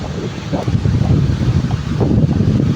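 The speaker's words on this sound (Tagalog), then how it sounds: "Malakas ang hangin." Strong typhoon wind on a beach roars and buffets steadily across the microphone, a heavy low rumble with faint surf-like wash beneath it.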